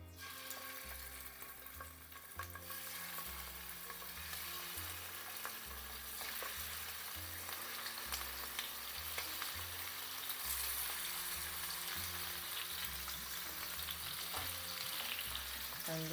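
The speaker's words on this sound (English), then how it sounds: "Now we need to quickly seal the chicken off, so we need to fry it on high heat just for 4 to 5 minutes" Chicken pieces fry on high heat in frying pans for a Chicken Bhuna, giving a loud, steady, continuous sizzle with occasional stirring noises throughout.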